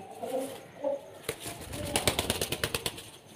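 Pigeons coo in a few soft low calls, then a burst of rapid rhythmic flapping or fluttering wings, close by and moderately quiet.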